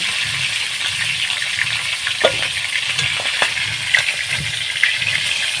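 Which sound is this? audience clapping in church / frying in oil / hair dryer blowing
frying in oil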